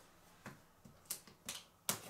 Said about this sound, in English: Got some scissors here, and I'm just gonna go through and open up the tape.